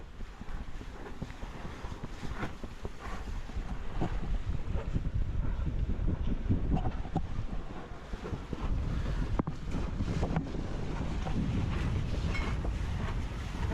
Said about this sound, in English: The wind is up pretty decent.